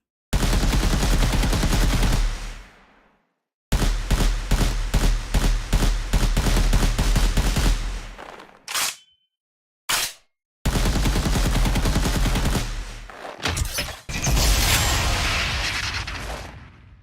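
Turrets in an Unreal Engine 5 video game project fire in rapid bursts of machine-gun shots, loud and close, broken by short silences and a couple of single booms, with no voices.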